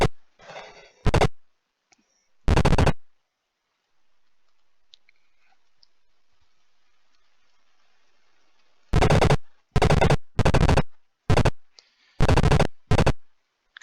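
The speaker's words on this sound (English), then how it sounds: "I'm going to try and take this one out with gunfire, actually" Aircraft cannon fire from the F-117A Stealth Fighter 2.0 flight game comes in loud, abrupt bursts: two separate volleys, then a quick cluster of five or six more after a long quiet stretch.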